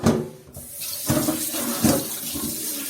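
Tap water running over chicken livers in a strainer, splashing unevenly as the flow pulses and the livers are moved under the stream, close by and without talk.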